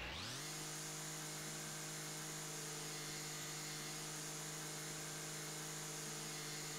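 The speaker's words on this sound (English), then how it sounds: "I found that I can just use lawnmower" A lawnmower in the House Flipper game starts up and then drones steadily, giving a loud, even, constant motor whine with a strong tonal hum and no talking.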